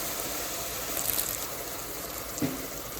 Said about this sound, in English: Let's just add a few drops of water